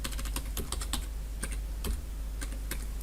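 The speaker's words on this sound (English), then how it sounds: "I'm going to type in that administrator's password" Rapid, irregular keystrokes on a computer keyboard as an administrator password is entered, close and fairly quiet over a steady low hum, with no voices.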